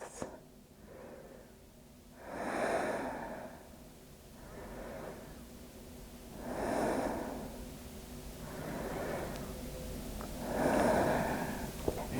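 Slow, deep breaths during an at-home power yoga session, with three long, broad swells of air at roughly even intervals, each followed by a quieter exhale. The breathing is close and fairly soft, and no one speaks.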